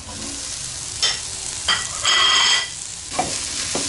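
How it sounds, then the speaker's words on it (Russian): Onion, carrot and pepper fry in a very hot pan on high heat, with a steady close sizzle broken by a few louder bursts of stirring and scraping, and no talking. "Когда лучок у нас немного обжарится, добавляем морковку."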